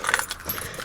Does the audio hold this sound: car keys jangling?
yes